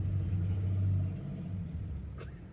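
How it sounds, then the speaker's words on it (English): Low engine rumble of a vehicle backing up near a mail truck, a steady close idle drone that eases slightly, with a brief high squeak near the end and no talking. "somebody was backing into the mail truck"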